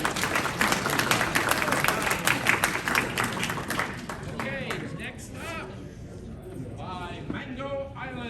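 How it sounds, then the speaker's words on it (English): Applause and cheering at a fan convention auction rises loudly at first, then thins and fades while a voice speaks over the dwindling claps. "Give him a round of applause."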